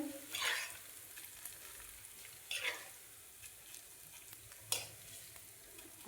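Ginger garlic paste frying in oil for a chili and ginger pickle, a soft steady sizzle broken by three sharp stirring scrapes at intervals, close and fairly quiet, with no speech.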